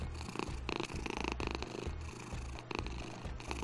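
A cat purrs steadily in a video game, a low rhythmic rumbling that pulses continuously, close and prominent with no talk over it.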